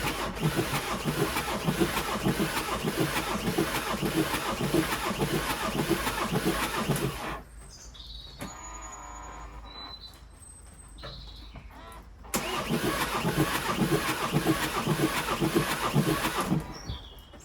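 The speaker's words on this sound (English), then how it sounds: "I'm going to try turning the engine over" A VW 2.0 TDI CFFB diesel engine with a stuck injector cranks over in two long, loud, rhythmic bursts, separated by a quieter stretch of a few seconds.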